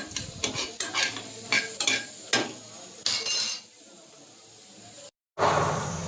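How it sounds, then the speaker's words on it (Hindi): Lentil batter whisked by hand in one direction in a bowl, a series of quick wet slapping strokes followed by a pause and a short burst of noise. "एक ही डायरेक्शन में हमको ऐसे दाल फेंटनी है"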